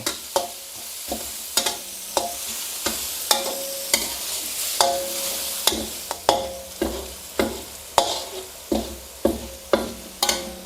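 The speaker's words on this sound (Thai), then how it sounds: "เจียวหอมกระเทียมให้สุกหอมก่อนเลยนะ เจียวให้สุกและมีกลิ่นหอมได้เลย" Chopped Chinese garlic, with shallots, fries in an oil-filled pan with a steady sizzle, broken by a regular rhythm of sharp scraping stir strokes throughout.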